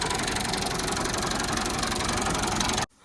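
A tractor engine running under test, a loud steady close chugging drone that cuts off abruptly near the end.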